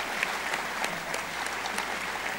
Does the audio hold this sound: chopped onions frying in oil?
no